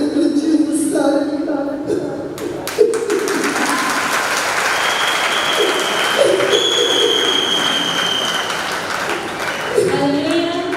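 A church congregation at a Christmas service applauds in a sustained, even patter of many hands, mixed with voices and some tonal background sound throughout.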